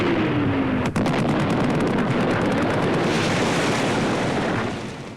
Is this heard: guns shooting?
yes